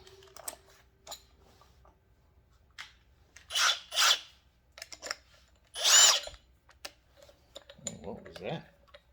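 Ridgid power drills run in short whirring bursts of a second or so each, separated by quieter gaps, with someone talking between the runs.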